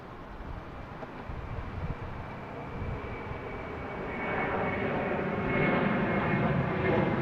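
An Iberia airliner bound for Madrid at Boston Logan airport, a broad jet engine rumble that grows louder over the clip as the aircraft comes closer.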